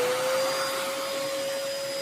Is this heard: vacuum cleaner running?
yes